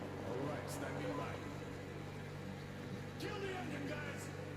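A boat engine idles with a steady low droning hum in the Metro Exodus game, running continuously beneath voices talking.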